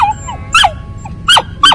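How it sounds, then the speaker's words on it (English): A young Samoyed dog barks in short, sharp bursts, three loud barks with brief whimpery yips between them, close by with no talk. "He really likes to bark all the time."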